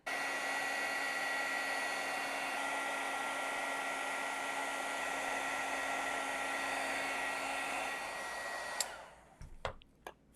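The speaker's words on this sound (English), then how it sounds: "So let me get my heat tool warmed up." A heat embossing tool runs with a steady, close, airy blowing hum and a faint whine for about nine seconds, then switches off, followed by a few soft handling knocks.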